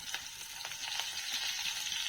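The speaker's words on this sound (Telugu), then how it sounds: "ఇవన్నీ వేసి నేను తాలింపు పెట్టుకుంటున్నాను." Garlic, curry leaves and dried red chilies sizzle steadily in hot oil for a Telugu tempering, a close, continuous crackling fry with no voices over it.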